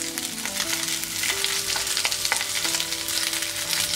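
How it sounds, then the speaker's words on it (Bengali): Taki fish sizzles in a frying pan, a steady, close, continuous crackle of hot oil with no voices. "মাছগুলো ভাজা হয়ে গেছে"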